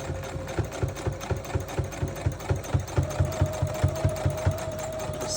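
Domestic sewing machine stitching darts in a fabric bowl cozy, running steadily with a fast, even mechanical rhythm and a constant motor whine, close and alone.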